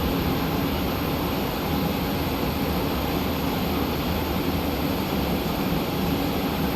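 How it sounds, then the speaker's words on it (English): Boeing 737 engines spooling down in the X-Plane 12 flight simulator, a steady broadband roar and whine that holds loud and even throughout, with no talking. "Engines coming off, you can see them spooling down."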